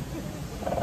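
A short roar from the animatronic velociraptor at the Universal Studios Hollywood raptor encounter, rising louder toward the end over crowd noise.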